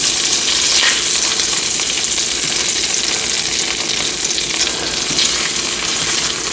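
Hamburger steaks frying in a pan, with a loud, close, continuous crackling sizzle that stays steady throughout.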